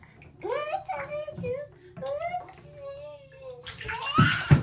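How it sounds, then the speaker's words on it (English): A child splashes water in a bathtub at bath time, soft intermittent splashes with a louder burst near the end, while a child and an adult talk and sing over it. "You splashing yourself?"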